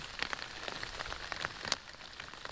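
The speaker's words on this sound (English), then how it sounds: "it starts raining" Rain falling on a campsite with the cook fire's coals dying down: scattered close raindrop taps and patters over a soft steady hiss, quiet overall, with a few sharper hits and no voices.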